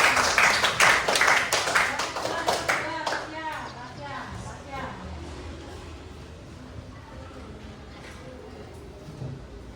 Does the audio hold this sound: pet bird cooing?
no